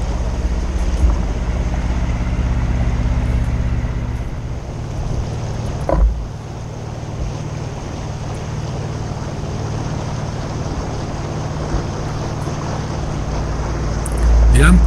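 A 1976 JonkerPaans displacement motorboat cruises on the Mittellandkanal, its engine a loud, steady low drone mixed with rushing wind and water noise, continuous throughout with a brief bump midway.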